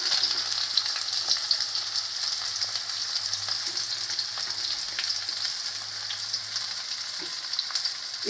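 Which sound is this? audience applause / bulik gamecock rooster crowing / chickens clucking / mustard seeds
mustard seeds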